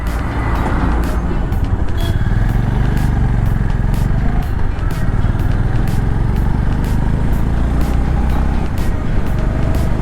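A Honda Big Wing motorcycle accelerates in a loud, continuous engine roar heard from the rider's position, with steady wind rush and faint rhythmic ticks running through it.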